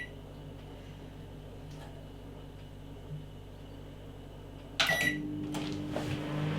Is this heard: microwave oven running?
yes